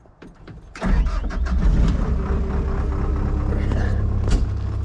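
A mini skid steer engine starting and warming up, a sudden loud diesel catch after a short crank, then a steady, close, rumbling idle with a fast rhythmic pulse throughout.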